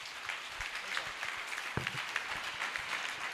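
A church congregation applauding, a dense, steady patter of many hands clapping at moderate distance, with a few louder claps standing out.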